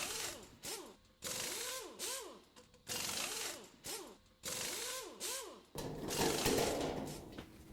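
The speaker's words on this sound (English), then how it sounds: "remove all the screws that hold the back panel on with a 1/4-inch nut driver" Screws on the back panel of a Whirlpool/Kenmore dryer being backed out with a 1/4-inch nut driver, a quiet, close ratcheting whir in short repeated bursts with brief pauses between.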